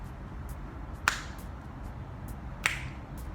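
Two crisp finger snaps about a second and a half apart, sharp and close, over a faint steady background hiss.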